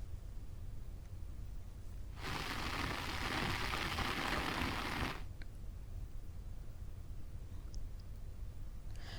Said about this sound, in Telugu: ఉమ్మడి కరీంనగర్ జిల్లా వ్యాప్తంగా భారీ వర్షాలు కురుస్తున్నాయి.